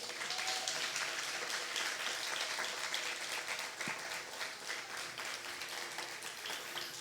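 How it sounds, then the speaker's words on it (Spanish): Church congregation applauding during an evangelical service, a continuous wash of many hands clapping at moderate distance, sustained evenly for the whole stretch. "Denle un aplauso al Señor."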